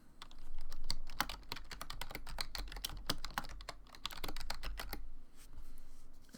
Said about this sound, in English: Let me type that in real quick.